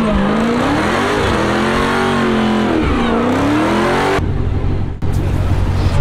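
Widebody Dodge Hellcat Charger on 26-inch wheels accelerating hard while racing, heard as a loud, close supercharged engine roar that rises and dips in pitch through the gears before abruptly cutting out.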